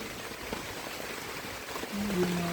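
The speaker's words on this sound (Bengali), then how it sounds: "ভালোই ঝপঝপ ঝপঝপ করে বৃষ্টি হচ্ছে" Heavy rain pours steadily outdoors as a dense, even hiss, while a low tonal hum comes in toward the end.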